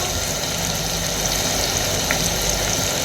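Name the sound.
onion frying in oil for rice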